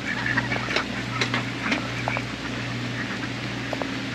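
Ducks quack repeatedly nearby outdoors after a storm, a loud cluster of overlapping calls over a constant low background hum.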